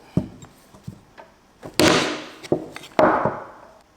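A hammer strikes campervan cushion flooring laid over wood, a string of sharp thuds and knocks of varying force, with several louder blows that ring on briefly, close up and with no voices.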